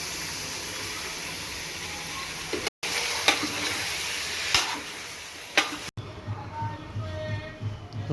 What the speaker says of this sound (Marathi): मस्त चिकन परतून घेऊ आपण